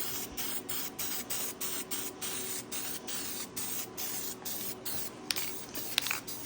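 Spray paint hisses from an aerosol can as a coat goes onto a part for a Jeep XJ rally car, in short repeated bursts with brief gaps, close and fairly steady.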